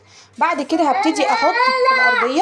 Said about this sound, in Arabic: بعتذر عن الصوت معلش، ده صوت بنتي